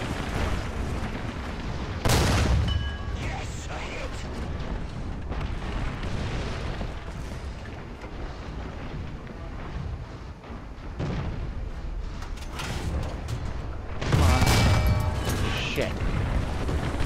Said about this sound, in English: Stop shooting me, you bloody bastards.